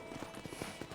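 A horse's hooves clip-clop at a steady trotting rhythm in the 2010 video game Red Dead Redemption. The hoofbeats are moderately loud and sit over a busy game soundscape.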